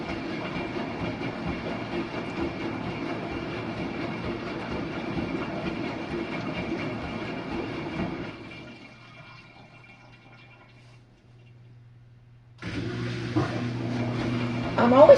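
A Samsung WF45N5300AW front-loading washing machine on its rinse cycle sloshes and churns with water rushing, drops to a quiet low hum midway, then water noise resumes loudly.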